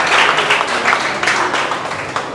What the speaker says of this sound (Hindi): सभी लोग ताली बजाएंगे।